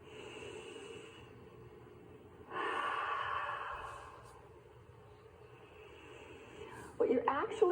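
Slow deep breathing during an energy healing exercise, with fingers held in a cathedral-like position: a long hissing inhale or exhale swells midway, then a sharper, louder breath near the end, close and soft.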